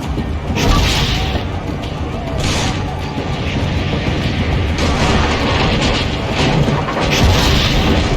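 Cannon fire in Assassin's Creed Brotherhood, heavy booms and crashing impacts rolling continuously over a dense battle din, with voices mixed into the clamour.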